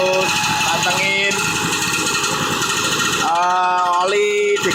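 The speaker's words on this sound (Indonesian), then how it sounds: "Mesin masih berat, agak geter." A two-stroke engine runs heavy and rough with a loud, hammering, vibrating drone, its pitch rising and falling as it revs, with voices over it.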